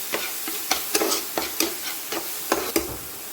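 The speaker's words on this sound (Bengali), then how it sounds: "আর দিয়ে দেবো একটু সামান্য কাঁচা লঙ্কা বাটা, দিয়ে নাড়াচাড়া করে নিচ্ছি" Green chilli paste stirred in a pan makes a quick run of rhythmic spatula scrapes, about a dozen close, crisp strokes over a faint sizzle, with no talking.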